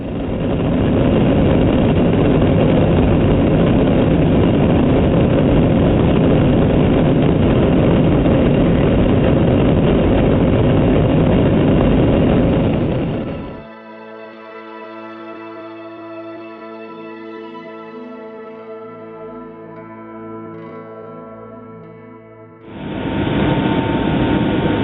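Jet engines of a Boeing 707 airliner in Iran roar loud and steady from inside the cabin, drop away to a quieter hum with tonal whine, then surge back to full roar.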